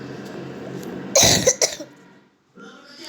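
A person coughs close by, two sharp bursts back to back, set against a quiet indoor room hum and followed by near silence.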